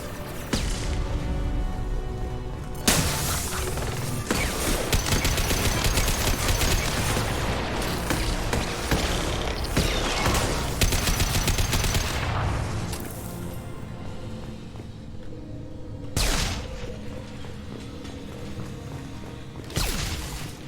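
A hacked turret fires in Mass Effect 2, sustained loud volleys of rapid gunfire and booms rolling continuously through a chaotic combat scene, with a few sharp bursts standing out.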